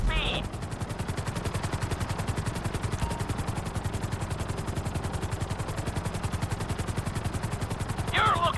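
Helicopter in the video game GTA V flying with a fast, rhythmic rotor thump pulsing evenly throughout, loud and close, with brief higher bursts at the start and end.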